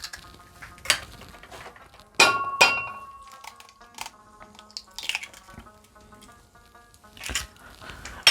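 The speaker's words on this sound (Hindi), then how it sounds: "अंडे डालने के बाद चम्मच से इनको मिक्स कर लें अच्छी तरह।" Eggs mixed with a spoon in a bowl: irregular clinks and taps of the spoon against the bowl, several sharp strikes among softer scraping, close and fairly quiet, with no talking.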